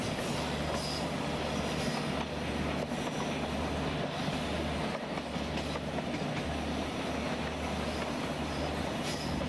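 A WDP4D diesel locomotive at full throttle hauls the Dibrugarh Rajdhani Express in Indian Train Simulator, giving a steady, loud engine drone with continuous rail clatter and rolling wheel noise, no voices.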